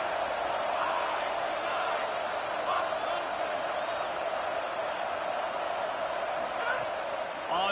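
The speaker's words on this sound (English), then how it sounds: "Listen to this crowd just shaking the girders of this place," A college football video game stadium crowd roaring, a dense sustained wash of cheering at steady volume, with commentary talking over it.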